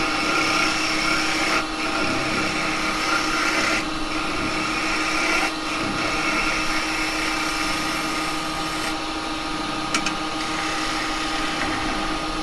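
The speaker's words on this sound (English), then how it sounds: "So I'm going to come in with a 1/2 inch spindle gouge. Clean the tenon up, foot." A 1/2 inch spindle gouge cuts cherry wood spinning on a lathe, a steady whirring hum with a constant tone and a hiss of shaving, with brief dips where the tool lifts off.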